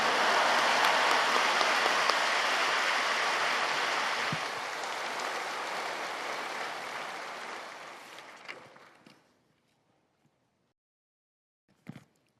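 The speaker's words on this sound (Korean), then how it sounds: "이제 목사님을 할렐루야로 박수로 맞이하겠습니다." A church congregation at Yoido Full Gospel Church applauds to welcome a visiting pastor: loud, dense, sustained clapping from a large crowd that tapers off around eight to nine seconds, followed by near silence and a single brief knock.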